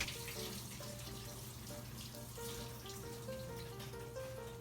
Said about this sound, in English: Just let the water out from there.